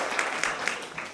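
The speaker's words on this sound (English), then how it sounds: "let's give these young children a round of applause" A brief burst of audience applause for a group of young children at a public meeting, fairly soft and even, with a few distinct claps standing out.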